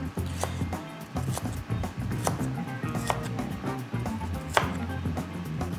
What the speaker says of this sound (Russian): Перчик мы тоже нарезаем соломкой